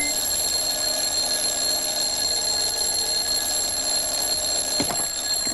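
An alarm clock rings continuously with a bright, high metallic buzz, steady and loud throughout, with a small knock near the end.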